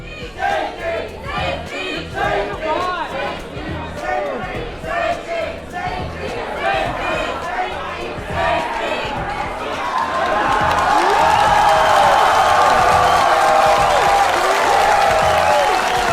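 Crowd at a Ben Shapiro campus talk erupts in rhythmic chanting and shouting, then swells into a louder, continuous roar of cheering and clapping in the second half, dense and close.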